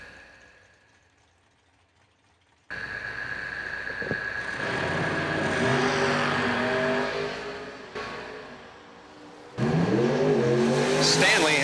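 Drag racing cars, including a Corvette Roadster, launch at a strip: quiet crowd murmur gives way to a loud, sustained engine roar that dips briefly, then surges again as another car revs hard, with an announcer talking over it.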